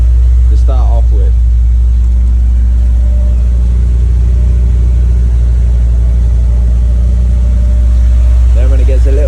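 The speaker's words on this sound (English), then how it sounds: "idles really high to start off with." A Peugeot 205 1.9 GTI idles high with a steady, loud mid-pitched engine drone and low rumble throughout, while someone talks briefly over it at the start and end.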